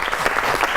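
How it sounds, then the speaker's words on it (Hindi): A studio audience at a comedy talk show breaks into applause, giving a dense and steady wash of many hands clapping together. "तालियां बजाइए।"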